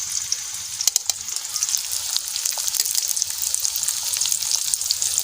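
Onions frying in oil as the base of a macaroni masala, with a steady, close crackling sizzle and a few sharper pops and stirs, no voices.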